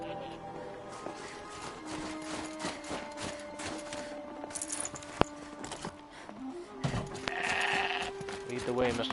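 Goat bleats in a video game, several short cries over busy game sounds, footsteps and music, with someone talking throughout.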